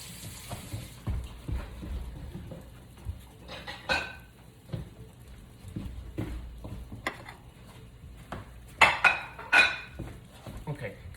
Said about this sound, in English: Okay, got my 2 plates out.